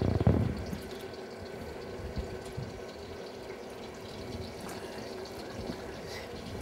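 Two octopuses go into a large pot of water for cooking, with steady splashing and bubbling close by that runs without a break and has no talk.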